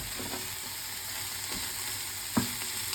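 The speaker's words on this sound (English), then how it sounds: "Saute it a little bit." Broccoli sautés in olive oil for chicken Alfredo pasta, an even close sizzle with a couple of soft spatula knocks, one sharper tap near the end, no one talking.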